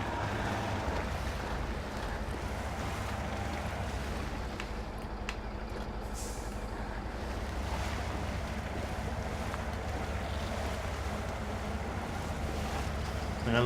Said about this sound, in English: And I love that water detail.